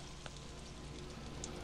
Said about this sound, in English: Oh, that's water from the pipes.